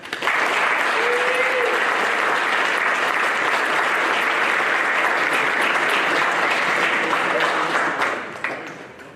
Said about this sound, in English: let's give one round of applause for our Hall of Fame inductees